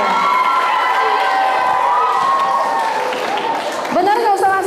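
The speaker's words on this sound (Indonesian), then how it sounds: "Oke, tepuk tangan untuk Rosida ya." An audience at an Islamic talk cheers and shouts for a woman named Rosida. Loud, voiced whoops and calls ring out alongside light clapping, with a fresh burst of shouting near the end.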